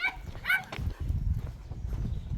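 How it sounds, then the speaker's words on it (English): A dog barks twice in quick, sharp yelps, moderately distant, on an outdoor trail, followed by low rustling and footstep-like noise. "I just heard a dog."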